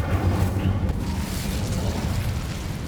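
Incendio fire spell cast in the Hogwarts Legacy video game, a loud continuous fiery whoosh and roar with deep rumbling booms, heard up close.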